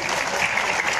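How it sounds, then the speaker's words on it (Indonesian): Steady, dense applause from an audience gathered for a visit by Indonesia's agriculture minister in Patalassang, Gowa, with many hands clapping continuously and no voices standing out. "Tepuk tangan yang berbeda"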